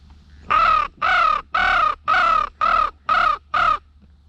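Seven loud, harsh crow caws in a steady, evenly spaced series, close overhead during a crow hunt outdoors.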